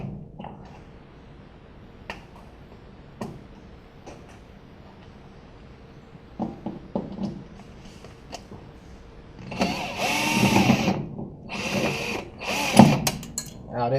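A power tool whirs and ratchets in short loud bursts as a starter solenoid is removed during a mini-starter swap, after a stretch of quiet clicks and small metallic taps.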